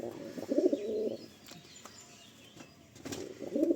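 Domestic pigeons coo nearby in low, throaty bursts, two clear rounds separated by a quiet pause, with faint background chirps.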